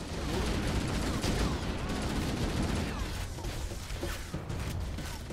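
Gunfire in Halo: The Master Chief Collection, a loud and constant barrage of shots and blasts filling the whole clip in the middle of an intense firefight, with a voice faintly underneath.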